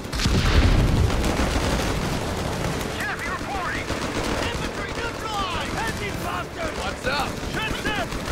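Heavy gunfire in the video game Company of Heroes 3, a dense rattling barrage of rifle and machine-gun shots with a booming hit early on, continuous and loud, with whistling chirps and battlefield noise layered on top.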